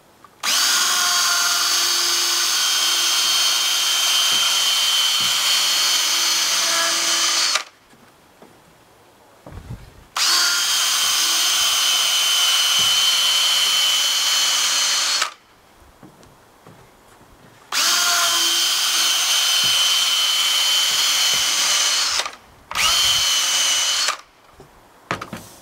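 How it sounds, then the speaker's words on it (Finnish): Power drill with a rotary brush spinning at moderate speed to strip excess wax from a ski base, running loud and steady in three long bursts with brief pauses and one short final burst, no talk. "Ehkä joku poran nopeusasteikolla 12 riittää tähän ihan hyvin."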